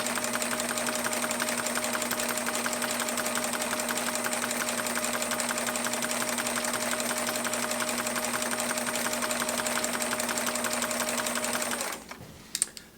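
Sailrite sewing machine stitching binding onto a poncho, a steady close whirring hum with fast rhythmic needle chatter running continuously, then stopping abruptly near the end with a few clicks.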